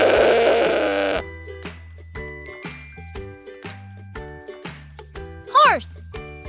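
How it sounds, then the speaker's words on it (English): A goat gives a single short bleat near the end, over a bouncy children's music jingle, with a voice speaking before it. "Goat."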